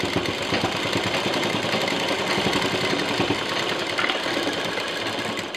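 A sewing machine stitches a backpack in a steady, rapid, continuous mechanical whir and chatter, close and moderately loud throughout.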